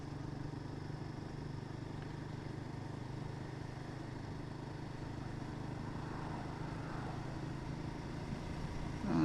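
A Royal Enfield Guerrilla 450 motorcycle on an icy road, its engine giving a faint, steady mid-pitched drone that swells slightly near the end as it gently accelerates.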